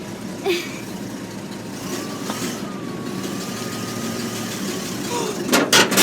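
A 1941 Snow Go Tarmac snowblower engine runs steadily at a moderate level, with a brief rising burst of revving near the end and a few scattered background sounds.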